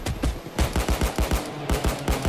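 Rapid automatic gunfire in the heist game Payday 2, aimed at a turret: loud, close bursts of rhythmic shots with a brief lull midway, no speech.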